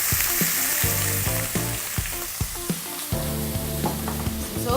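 Steady, crackling sizzle of lamb frying in a hot pan with a tablespoon of oil, close up, with occasional clinks and taps of a utensil against the pan.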